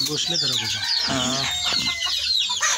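Chickens and roosters, native farm birds, cluck and squawk close by in overlapping bursts, with a crow-like call rising through the flock.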